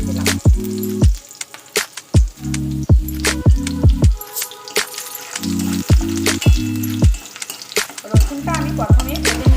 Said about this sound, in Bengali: রসুনটা আমি প্রথমে ভেজে নিচ্ছি